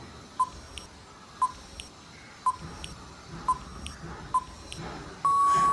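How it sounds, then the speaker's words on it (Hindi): A five-second countdown timer for a quiz gives five short, evenly spaced electronic beeps about a second apart, then a sustained long tone sounds at the end. It plays alone, with no talking. "इसके लिए मैं टाइमर दे रखा हूं 5 सेकेंड का"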